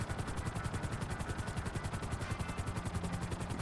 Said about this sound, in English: my helicopter flying skills haven't been ranked up in single player, I'll have to sort of persevere with this being blown around in the choppy air